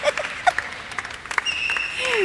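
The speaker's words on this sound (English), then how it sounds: "shall we clap our hands?" Women in a church fasting and prayer meeting clap their hands in scattered, uneven bursts, with a few sharp claps standing out over a faint voice and sustained tones in the background.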